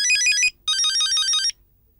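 A phone rings with an incoming call, playing a bright electronic melodic tone in two bursts separated by a short gap before it stops.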